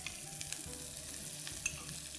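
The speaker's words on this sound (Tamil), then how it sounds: "எண்ணெய் போட்டு கடுகு பொரிஞ்சோடனே வந்து கருவேப்பிலை போட்டோம்." Mustard seeds and curry leaves tempering in hot oil, a continuous soft sizzle and crackle with scattered pops, heard close but at low level with no voices.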